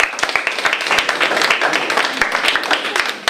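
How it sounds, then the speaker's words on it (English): An audience claps for the speakers at a photography project event, a dense, loud burst of many hands with distinct individual claps popping through, with some voices mixed in. "A hand of applause for the speakers."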